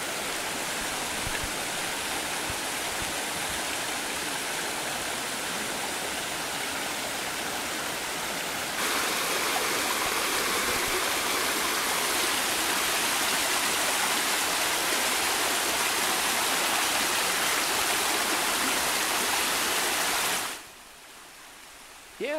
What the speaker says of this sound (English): listen to the water here.